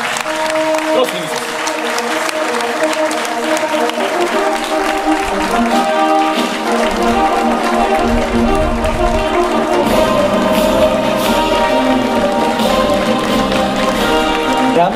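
Applause from an audience at a village festival celebration in Spytihněv, 2022, rolling steadily for the whole stretch, mixed with loud music and crowd voices.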